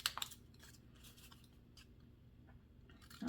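Craft scissors snipping paper, a few quiet crisp cuts near the start and end over a low background hum, no talking.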